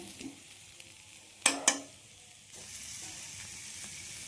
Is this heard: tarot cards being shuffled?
no